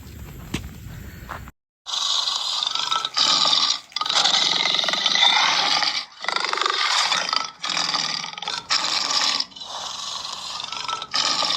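A leopard roars in a string of loud, rasping bursts separated by short pauses, close by, following a brief quieter start.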